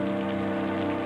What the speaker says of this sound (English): as the rain pours down, it washes Joe's filth into the river